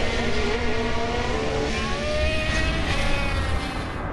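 Indy race cars at the Toronto Honda Indy speed down a straightaway, a steady loud engine roar with rising and falling whines as cars pass, continuous throughout with no talk.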